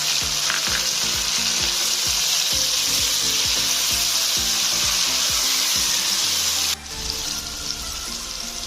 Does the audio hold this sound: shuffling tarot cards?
no